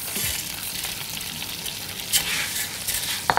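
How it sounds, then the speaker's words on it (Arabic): Rice tossed into hot native ghee with mastic and orzo sizzles steadily in the pot, close and crackling, with occasional spoon scrapes as it is stirred. "هنحط بقى المستكه مع معلقه السمنه البلدي عشان هحط الرز"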